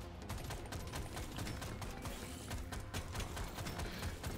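Gunfire from the video game Deep Rock Galactic Survivor, rapid continuous automatic shots with mechanical clatter, steady and fairly quiet throughout.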